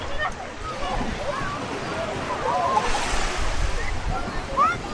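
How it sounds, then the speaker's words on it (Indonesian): Moderate ocean waves roll onto a beach in Karangasem, Bali, a steady wash of surf with gusts of wind buffeting the microphone and a swell rising near the end. "Ombaknya saat ini tidak begitu besar, sedang-sedang saja"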